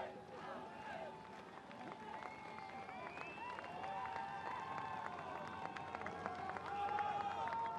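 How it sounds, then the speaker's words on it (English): Crowd noise on the dock at Les Sables d'Olonne for a Vendée Globe sailing race finish: steady murmur and scattered cheering, with horns or whistles sounding over it throughout. "It's a big crowd on the dock there."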